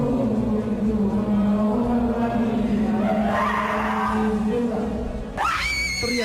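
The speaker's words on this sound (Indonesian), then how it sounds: "Teriakan gadis ini bukan berasal dari dirinya" A girl screams during an exorcism: a loud, strained, sustained wail with a pitch that holds steady, then climbs sharply near the end, over constant background noise.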